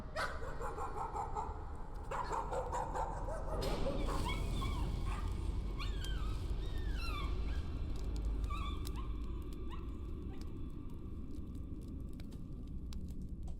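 A dog in the horror game Layers of Fear whimpers and yelps in high, wavering whines, with a few short barks mixed in, over a low, rumbling background drone.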